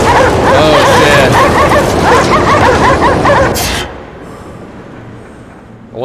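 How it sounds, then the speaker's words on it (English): A pack of Siberian Husky sled dogs in the game Cryostasis barks and yips in a loud, dense chorus for several seconds, then cuts off abruptly into a quiet low rumble. "I wonder if he like cut the sled dogs off. Like a bunch of Siberian Huskies."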